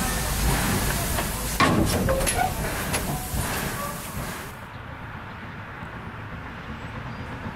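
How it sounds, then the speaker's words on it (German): Harz narrow-gauge steam locomotive 99 7245 pulls out of Drei Annen Hohne station with a train toward Eisfelder Talmühle, heavy chuffing, hissing steam and clanking close by, then fading into quieter outdoor ambience. "Die 99 72 45 verlässt hier mit einem Zug nach Eisfelder Talmühle den Bahnhof Dreiannenhohne."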